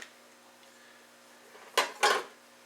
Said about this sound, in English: Alcohol stove.